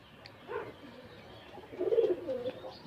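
Pigeons coo softly at a nest with birds sitting on eggs, a couple of low, throaty calls rising and falling at close range with no talk.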